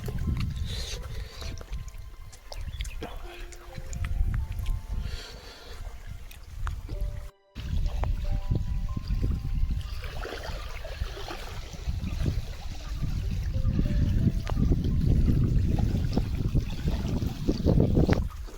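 Water trickling and splashing as a container is filled outdoors in the Konkan region, an uneven running flow that rises and thickens toward the end, with a brief dropout partway through.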